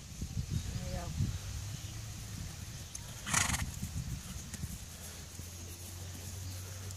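A horse moves through a stadium with hooves clopping softly, a whinny and a sharp snort or rustle partway, while people talk nearby.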